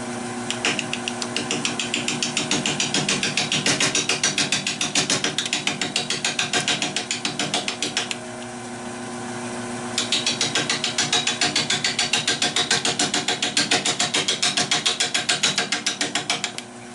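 Woodturning lathe hollowing a spalted maple bowl, with a steady rapid ticking chatter of the gouge against the spinning wood, loud and continuous, pausing briefly midway before resuming.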